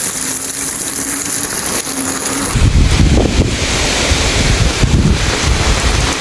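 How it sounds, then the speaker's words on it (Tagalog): A gust of strong typhoon wind suddenly roars into the microphone after a quieter stretch in Bicol, loud and blustery, buffeting continuously with no voices. "Bigla pong humangin."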